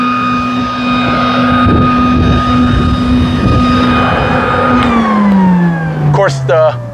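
Worx Trivac 3-in-1 electric leaf blower running outdoors with a loud steady whine that winds down in pitch near the end, wind buffeting the microphone throughout.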